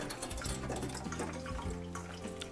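Clock parts being placed into a tub of cold water: a steady wash of splashing and running water with small clinks and sloshes, close and continuous throughout.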